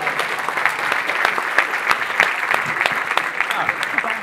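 A live comedy show audience applauds with steady, dense clapping for about four seconds, and faint voices sit underneath.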